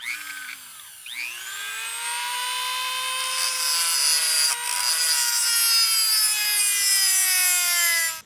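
Angle grinder cutting through a stainless steel washer clamped in vice grips, a loud sustained high-pitched whine and screech that rises as the disc bites in, then holds steady for several seconds before cutting off abruptly.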